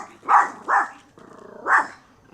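Close, loud dog barks aimed at a kite in the sky, two quick barks, a short pause, then a third, with a faint rhythmic rustle between them.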